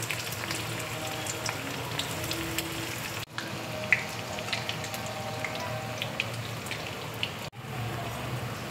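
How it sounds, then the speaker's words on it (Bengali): Puffed rice snacks deep frying in hot oil over a medium flame, a steady soft crackling hiss with scattered pops, heard close and alone with two brief gaps. "এবার আমি তেলে এক এক করে ছেড়ে দেবো। এটা কিন্তু আমি মিডিয়াম ফ্লেমে করব"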